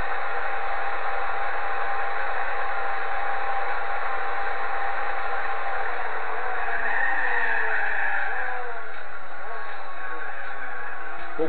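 In the Gran Turismo 4 video game, a 2006 Mitsubishi Eclipse engine drones steadily at high revs for the whole stretch, with a slight rise in pitch partway through. The engine sound is continuous and somewhat muffled.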